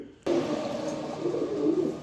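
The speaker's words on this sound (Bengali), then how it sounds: "এই দেখেন নটটা কেমন ডাকতেছে, খুবই সুন্দর সুপার এক পেয়ার কবুতর" A male pigeon of a large-sized show pair coos close by in a steady, continuous run that begins abruptly and holds at a fairly loud level, with no talking over it.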